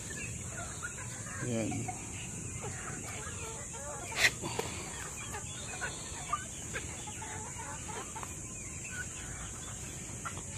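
Native chickens and turkeys on a farm cluck and call intermittently at a moderate distance over a steady background hiss, with a few sharper squawks in the middle and a brief spoken word.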